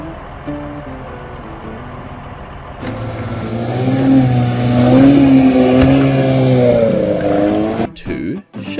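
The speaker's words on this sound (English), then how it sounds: "Five buses." Bus engines at road speed, a loud steady droning hum with rising and falling pitch that swells after a short spoken introduction and cuts off abruptly near the end.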